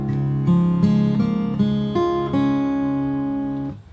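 Fingerstyle acoustic guitar plays a pre-chorus bar of a song on open strings, picked notes ringing steadily at an even pace for about four seconds, close and clear with no talking.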